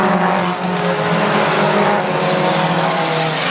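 Race cars battling at Central Texas Speedway, several running close together: a loud, unbroken roar of engines and tires that fills the whole stretch, with no voices.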